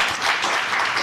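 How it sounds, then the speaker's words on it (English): Audience applause at a young changemakers showcase, a steady dense wash of clapping filling the whole short moment, loud and continuous with no talking over it. "But please give it up, a round of applause for Abby."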